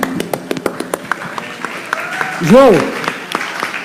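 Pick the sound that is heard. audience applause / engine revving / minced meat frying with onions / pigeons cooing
audience applause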